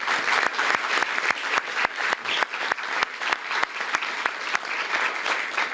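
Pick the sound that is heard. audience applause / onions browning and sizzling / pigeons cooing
audience applause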